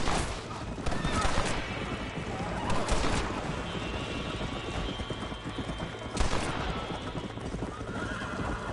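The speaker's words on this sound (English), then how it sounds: "Shot his horse by accident." In the Red Dead Redemption video game, hooves clip-clop in a steady galloping rhythm while a horse whinnies, with bursts of gunfire ringing out over the hoofbeats.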